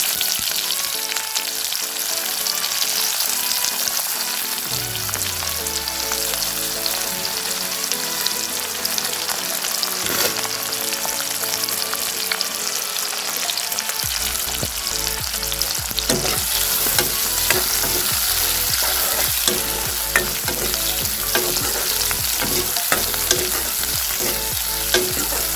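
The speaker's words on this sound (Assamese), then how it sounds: "এইখিনি তেলতে মই দি দিম এতিয়া পিঁয়াজ।" A large chopped onion goes into hot oil for a pork dish and fries with a loud, dense, continuous sizzle and crackle. Occasional stirring shifts are heard, and nobody speaks.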